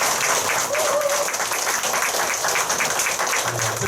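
An audience at a People's Party women's committee workshop applauds a politician, steady dense clapping filling the whole stretch at moderate loudness, with a faint voice briefly audible beneath it.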